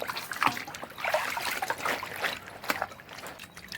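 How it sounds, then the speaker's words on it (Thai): School uniform skirt being rinsed by hand in water, with sloshing, trickling and small splashes in uneven bursts, close and moderately quiet, no talking. "กระโปรงนี่ต้องล้างหลายๆน้ำหน่อย"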